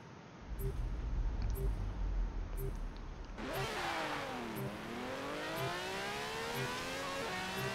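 A Ferrari drives downhill in Forza Horizon 4, its engine rising and falling in pitch as it revs through gear changes. The note starts under a rhythmic backing track, then a steady, loud engine drone dominates.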